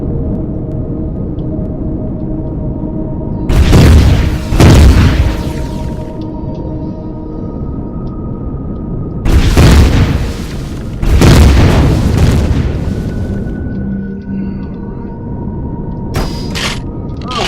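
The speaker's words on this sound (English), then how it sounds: "So now they should be shooting at us." Enemy fire striking a base in the Empyrion sci-fi survival game, heavy booming impacts arriving in several loud bursts of one to two seconds, separated by quieter stretches of low ambient hum.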